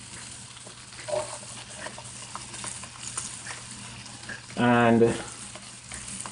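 Onions hitting hot oil in a pot for Jamaican seasoned rice burst into a loud sizzle after a steady low frying hiss, close up, with a single spoken word.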